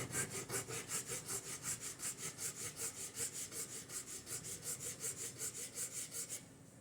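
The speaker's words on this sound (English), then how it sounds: "And really sand on it enough." A fabricated part for an AT-AT restomod is sanded with fast, even back-and-forth strokes, a steady raspy rhythm of roughly four strokes per second that continues for about six seconds before stopping.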